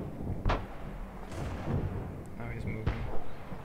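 Artillery fires in World of Tanks as several heavy, distant thumps spaced a second or two apart, over a low battlefield rumble. A voice talks over the shots.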